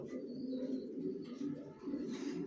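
Soft, low coos from young racer pigeon chicks repeat in a slow rolling rhythm close by, with faint higher bird chirps in the background.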